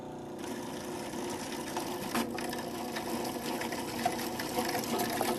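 Cuisinart Elite 14-cup food processor running with a steady whirring motor hum while olive oil trickles in through the small feed tube, a continuous near drone with a faint liquid gurgle.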